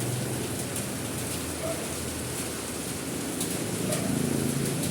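Steady rain falling outdoors during a flood, a continuous broadband hiss of drops holding the same level throughout, with no voices.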